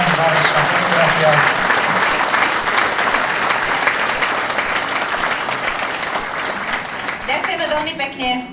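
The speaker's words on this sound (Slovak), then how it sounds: "Dámy a páni, jeden veľký potlesk pre všetky kraje, všetky ocenené obce" Audience at a village-of-the-year awards ceremony in Budmerice breaks into sustained, dense applause lasting several seconds, loud and close, fading near the end as a voice resumes.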